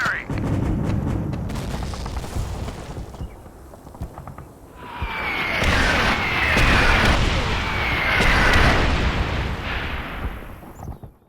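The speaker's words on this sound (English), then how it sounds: "snipers can call in an artillery strike" An artillery strike in the Call of Duty 3 video game opens with a radio voice, then heavy booming shell impacts and rolling explosions burst repeatedly, loud and reverberant, mixed with battlefield noise.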